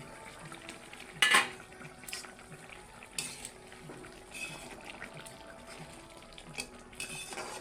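In a home kitchen during potol korma cooking, a pot lid and utensils clatter with a sharp metallic clank early, then scattered lighter knocks and scrapes over a faint steady background.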